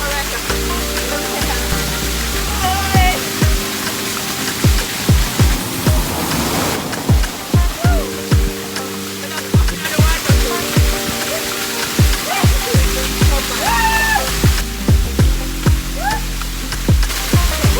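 Rushing water from a small roadside waterfall, Roselle Falls in St. Thomas, Jamaica, pours as a loud, constant broadband wash, with repeated sharp thumping knocks and brief tonal sounds over the roar.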